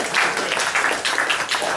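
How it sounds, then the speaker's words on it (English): Round of applause from a lecture audience, steady dense clapping throughout, fairly loud and close, with no talk over it. "Give him a round of applause."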